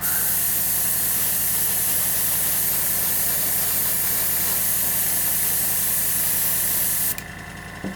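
Steady close spray-can hiss runs for about seven seconds while a coat of paint goes onto a model NASCAR car, then cuts off into quiet room noise.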